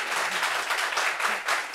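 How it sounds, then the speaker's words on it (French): Audience applause at a gathering honouring a youth and sports institute graduating class, a brief burst of steady, fairly dense clapping. "Très bien, applaudissez-vous encore"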